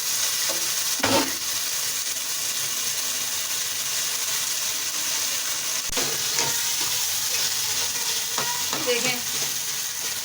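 Eggplant bharta being stirred in a masala in a pan, with a steady background sizzle of frying and scattered scraping stirs, louder clatters near the start and toward the end.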